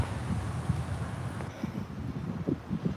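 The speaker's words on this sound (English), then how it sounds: "It's really windy around here." Gusty wind by a river buffeting the microphone with low rumbling bursts, steady and fairly loud, no voices present.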